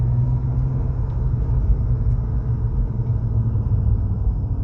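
An Acura TL driving and swinging through a U-turn on a test drive after a rear brake rebuild, with a steady low road rumble and engine drone throughout, close and fairly loud, no talking.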